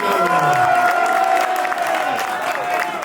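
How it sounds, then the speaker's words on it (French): Audience at a food challenge event cheering and applauding loudly, with whoops and shouted voices over steady clapping, sustained for the whole stretch. "on peut l'applaudir très très fort"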